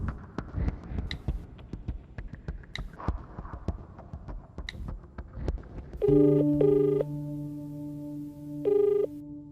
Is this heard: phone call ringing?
yes